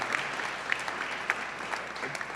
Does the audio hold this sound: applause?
yes